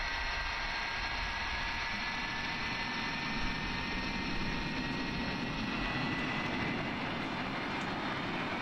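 Steady, loud jet engine roar of an MD-82 airliner in a flight simulator, a continuous broadband rumble with a faint high whine running unbroken throughout.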